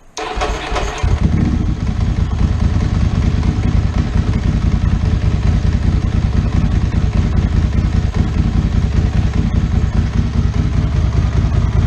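A superbike engine turns over and fires up after about a second, then settles into a loud, steady, close idle with a fast, even clatter that runs to the end with no voices.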